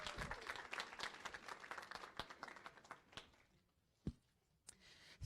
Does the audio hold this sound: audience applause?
yes